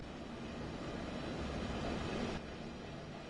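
A Southeastern high-speed train runs from London toward Ashford in Train Sim World 4, a quiet steady rumble with rolling noise that drops slightly in level near the end, with no talk.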